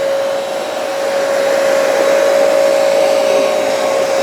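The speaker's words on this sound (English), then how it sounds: "now I'm going to stop pulling the trigger and just do vacuuming" A Hoover PowerDash Pet carpet cleaner vacuums carpet in a loud, steady motor whine with a constant high tone, running close and uninterrupted without any talk.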